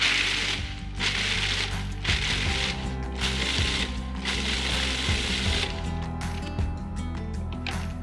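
A food processor whirs in loud bursts through cheddar Chex mix, its motor grinding in several pulses of a second or so each with brief pauses between, close by and without talk.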